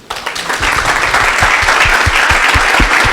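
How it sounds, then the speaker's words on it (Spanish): A panel audience on inequality and journalism breaks into sustained applause that starts abruptly and holds steady, dense and fairly close. "que agradeciéramos también con un aplauso a Roberto, a Diego y a Sol."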